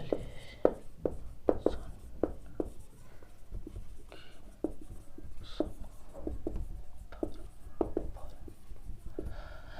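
Pen or chalk writing during a mechanics lesson on force systems: faint, close scratches and taps in short irregular strokes, with soft speech-like murmurs in between.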